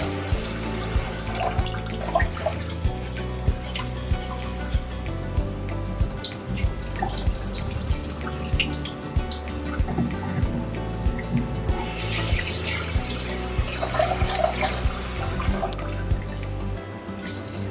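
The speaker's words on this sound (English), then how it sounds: "Then wash the rice." Rice being rinsed by hand under a running kitchen tap, with a steady stream of water splashing into a sink and pot and faint clinks of grains and container, continuous and close throughout.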